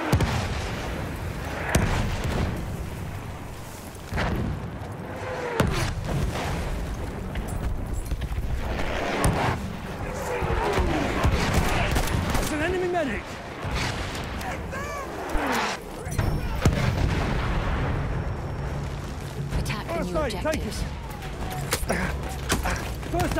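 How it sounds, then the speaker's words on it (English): Battlefield Rush mode battle where an enemy artillery barrage rains down as repeated heavy thuds and explosions amid constant gunfire, while soldiers shout and talk over the chaos. "Enemy artillery barrage to stop firing"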